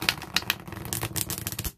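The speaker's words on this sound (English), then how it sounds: "I hope you guys can properly hear the details of shuffling this deck." A soft, smooth Waite-Smith tarot deck is shuffled up close, giving a dense, continuous riffling and flicking patter of cards with small crisp peaks throughout, fairly quiet and with no talking.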